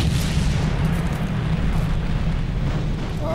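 Gunfire from space ships in the game GAIA, a continuous loud rumbling barrage of blasts and booms with no clear gaps between shots.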